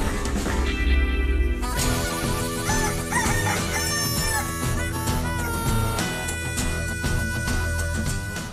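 A rooster crows in the morning in a loud, dense recording, its long calls blended with other layered, music-like sound, and no voices are heard.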